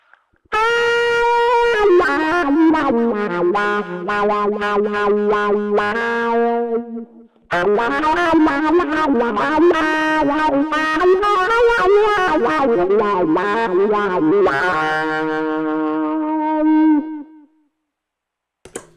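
A saxophone run through wah, delay and distortion plays a fast, gritty melodic line with echoing, guitar-like sweeping tones, a short pause midway.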